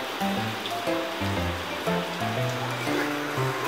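Rain falls in a steady, dense hiss that runs unbroken for the whole stretch, with soft tonal notes sounding underneath.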